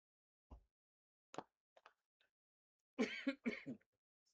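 A cricket player coughs several times out on the field during a County Championship match between Surrey and Hampshire, with a few sharp, separate coughs followed by a louder cluster of throaty hacks, close and otherwise quiet.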